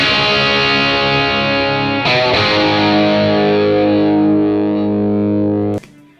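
A 1970s Greco Japanese Telecaster copy electric guitar with single-coil pickups played through gain, a thick, chewy distorted chord sustaining and ringing out, then a second strummed chord cut off at the end, loud and alone.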